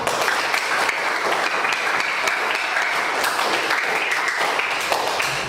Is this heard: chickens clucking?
no